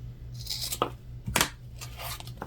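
Scissors cut through leather for scrunchies in a home workshop, making a few crisp, close snips and rustles over a low background hum.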